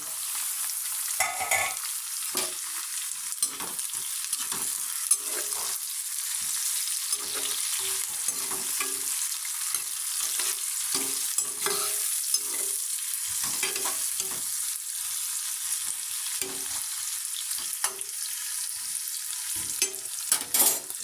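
Onion, green chilli and tomato pieces fry in a pan with a continuous close sizzle, while frequent spatula scrapes and stirring clicks recur throughout.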